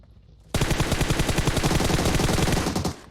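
Sustained automatic gunfire in PUBG Mobile, a loud, rapid burst of rhythmic shots that starts abruptly and runs for about two and a half seconds before cutting off.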